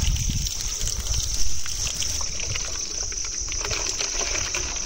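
Tap water runs steadily into a container at a rural livestock farm, a constant close trickle and splash that holds even from start to finish, with a brief louder gush early on.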